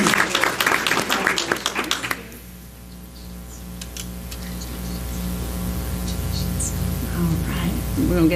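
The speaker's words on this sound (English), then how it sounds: "Let's give them a round of applause." An audience applauds elementary honor choir students at a city schools meeting: about two seconds of brisk clapping, then it fades out under a steady electrical hum and scattered room noise.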